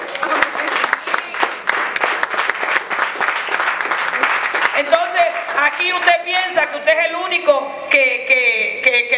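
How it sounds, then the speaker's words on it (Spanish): Church congregation applauding during a Spanish-language sermon, dense clapping for about five seconds before a preacher's voice takes over while a few claps linger underneath. "Denle un aplauso al Señor porque Él es bueno"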